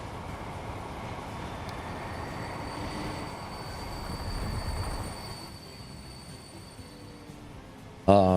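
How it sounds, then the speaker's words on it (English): A video-game freight train carrying refined oil rumbles along steadily, its wheels grinding and squealing on the rails. The rumble fades after a few seconds, and a brief sharp sound breaks in at the very end. "This is a train bringing in some"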